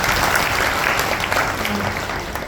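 A gathering at a devotional kirtan session claps steadily together, a dense, close wash of applause that holds at a fairly even loudness for the whole short stretch.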